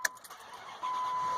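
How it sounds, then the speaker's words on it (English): An old truck engine cranks and catches at close range after a brief rattle. A steady running drone follows. "Start the truck."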